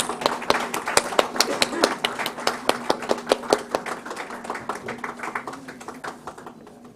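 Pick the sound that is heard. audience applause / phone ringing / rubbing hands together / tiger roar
audience applause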